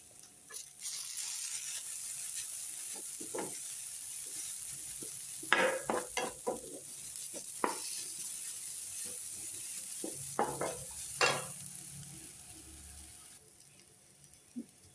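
Greens mallum with grated coconut and turmeric is stirred in a pan, giving soft sizzling and frying under a run of scraping spoon strokes, clustered mid-clip with brief pauses.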